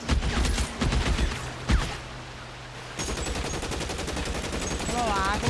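Rapid gunfire rattles in the L.A. Noire video game, dense volleys of shots up front, then a quieter stretch before a steady pulsing burst of fire continues to the end.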